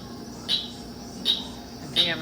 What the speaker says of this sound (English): Do the cricket frogs again.